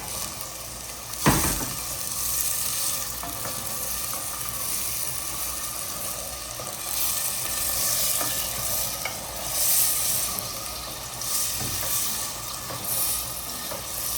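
Beef being stir-fried and roasted with salt in a pan, a continuous close sizzle with scraping stirs and one sharp knock near the start, no talking.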